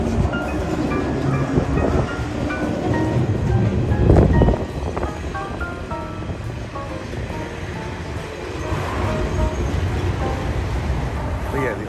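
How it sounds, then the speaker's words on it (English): A small train rumbles past in the New Orleans Garden District, a continuous rolling mechanical drone with tonal hums and a brief louder clatter midway, mixed with street ambience and a voice talking. "there's a little train going by"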